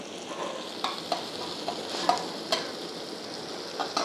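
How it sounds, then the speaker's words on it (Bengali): Ginger and garlic paste frying on the side of a pan for a chicken gravy, a steady close sizzle broken by light spatula scrapes and taps at irregular intervals, with no talking. "আদা বাটা, রসুন বাটাটাকে ভালো করে ভেজে নেব সাইডে।"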